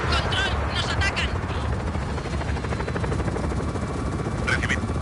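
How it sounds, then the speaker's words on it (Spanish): A helicopter approaches in the video game Just Cause 4, its rotor whirring steadily and close under bursts of gunfire and game sound effects, with no pause throughout. "Helicóptero aproximándose."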